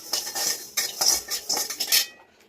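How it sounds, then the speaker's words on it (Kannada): A metal spoon stirs and scrapes cashews and poppy seeds frying in a pan, giving a quick series of bright clinks and rattles close by that stop abruptly, with no talk. "ಒಂದು 7-8 ಕ್ಯಾಶ್ಯೂ ತೊಗೊಂಡು ಫ್ರೈ ಮಾಡ್ತಾ ಇದ್ದೀನಿ"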